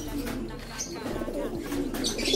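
Pigeons fight at a nest, giving rough cooing and scuffling, with someone talking over them.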